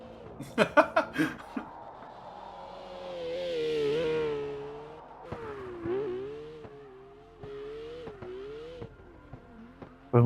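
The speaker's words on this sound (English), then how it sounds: "we'll just let you listen to this beautiful car" A drift car engine in a sim racing video game revs and wails continuously, its pitch rising and falling through long throttle sweeps, with brief laughter at the start.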